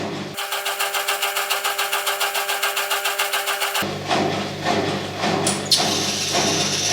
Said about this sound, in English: we need to have a look at this motor, see if it turns